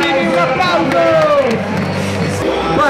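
A convention crowd at Romics in Rome yells and whoops together, loud and close, with an MC's amplified voice shouting over the cheering and a music bed beneath.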